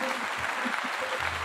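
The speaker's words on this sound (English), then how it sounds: "I want to give you another clap again" Applause for a doctor after a talk on Black health, a steady dense patter of clapping with murmured voices underneath throughout.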